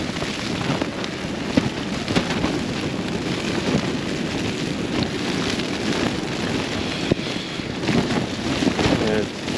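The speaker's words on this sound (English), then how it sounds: "Wind's definitely getting in somewhere." High coastal wind batters a Lanshan 1 Plus tent during a wild camp, a steady, loud roar and rumble with flapping fabric rustle running throughout.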